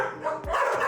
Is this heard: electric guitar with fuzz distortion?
no